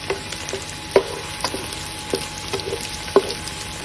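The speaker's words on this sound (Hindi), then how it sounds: "प्याज को हमने थोड़ा सा लाइट ब्राउन करना है।" Onions frying to a light brown in a pan with ghee for Afghani pulao, giving a steady low sizzle with scattered clicks and scrapes of stirring, close by with no talk.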